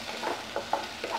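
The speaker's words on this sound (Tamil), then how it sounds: "வெங்காயம் நல்லா வதங்கிட்டுருக்கு." Finely chopped large onion and green chili sautéing in hot oil for a Tamil egg masala, a soft, steady sizzle broken by a few stirring scrapes at intervals, close and quiet with no talk.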